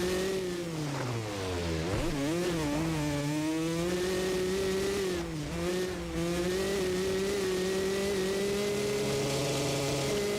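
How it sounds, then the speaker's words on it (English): A high-pitched motocross bike engine in the video game MX vs. ATV Legends revs up and down repeatedly while descending a hill, whining and shifting pitch, loud and continuous with no voices. "Hear the motor revving up coming down the hill there."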